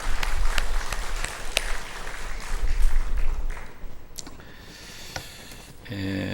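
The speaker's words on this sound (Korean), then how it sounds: "다시 한번 뜨겁게 한번 박수 쳐주십시오." A church congregation applauds after a sermon introduction, a dense wash of clapping that swells and then fades toward the end, heard alone without talk.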